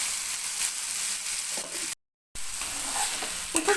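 A tablespoon of ginger garlic paste sautéing in a pan for chicken chukka, a dense continuous sizzle with light stirring scrapes, cut by a brief dropout of total silence midway; no voices.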